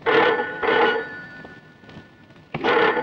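A telephone ringing indoors, three loud electronic ring bursts separated by short pauses, close and clear with no talk over it.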